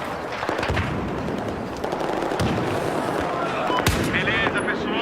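Battlefield 4 team deathmatch on a railway map, with dense, loud gunfire close by: rapid automatic bursts and sharp single shots crackling almost without pause, plus occasional heavier blasts.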